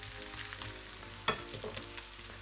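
Okonomiyaki sizzles steadily in a hot pan just after being flipped, a close, continuous frying hiss with a few sharper crackles and pops.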